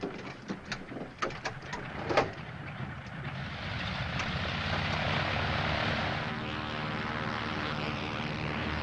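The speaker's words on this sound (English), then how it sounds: "Would you like to make your airplane fly now?" Propeller airplane engine droning steadily, building from scattered bursts into a sustained, fairly loud hum near the ground, with a few brief clicks and thumps early on.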